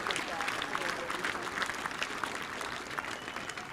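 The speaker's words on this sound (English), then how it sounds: "I want you to give them a big round of applause" A crowd applauds parents at a youth baseball opening ceremony, with dense, steady clapping heard from some distance and scattered voices mixed in throughout.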